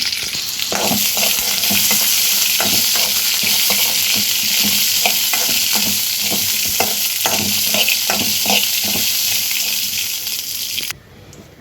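Peanuts and chana dal roast in a pan for peanut chutney, a loud, close crackling sizzle with repeated rhythmic scrapes of stirring that stops abruptly at the end.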